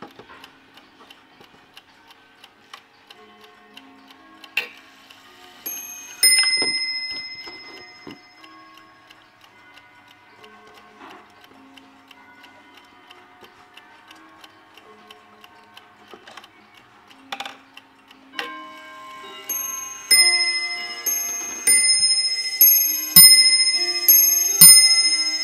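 An antique imported table clock ticks steadily and loudly up close, then strikes the hour with a series of ringing chime notes that repeat at regular intervals toward the end, with no voices.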